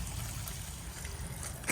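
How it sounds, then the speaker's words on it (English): Fresh water drains from an external tap on a 2024 Elddis Signature 196 caravan, a quiet, continuous trickle with no voices. "you want to open this tap and let out all the fresh water"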